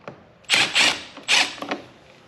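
Ratchet with a 10 mm socket turning a battery terminal nut on a Jeep JL Wrangler Rubicon, three or four close, quick clicking bursts in an otherwise quiet space.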